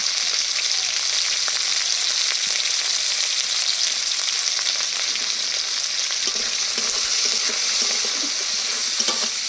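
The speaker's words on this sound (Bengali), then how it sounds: "তেলের মধ্যে দিয়ে দেবো কাঁচা লঙ্কা পেঁয়াজ কুচি" Green chilies, chopped onion and garlic fry in hot oil, a loud, steady hiss and crackle that continues without a break, with occasional stirring noises beneath it.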